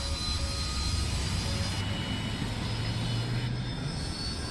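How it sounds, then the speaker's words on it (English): Harrier jets taking off at the start of a War Thunder match, a steady, moderately loud jet engine roar that holds evenly throughout with no talk over it. "I love the Harriers just rocketing off at the beginning of every match."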